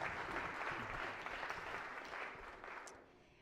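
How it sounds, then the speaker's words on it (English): Applause for a high school student honored during a state Senate floor session, a faint, even patter of clapping that tapers off toward the end. "Let's clap for Lucia"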